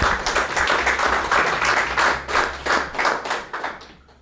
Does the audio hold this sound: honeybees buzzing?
no